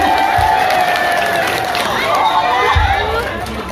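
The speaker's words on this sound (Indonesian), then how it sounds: "Tepuk tangan untuk Limas Enan." A village audience at a religious sermon in Cikawung, Tasikmalaya claps and cheers, a loud, dense crowd noise with clapping mixed into voices and babble, steady throughout with a few low thumps.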